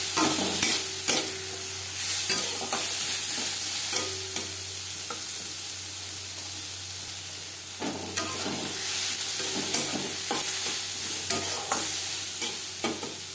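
Garlic and onion, with dried red chillies, fry in a pan with a steady sizzle and hiss while a spoon scrapes and stirs at intervals, close by and without talk.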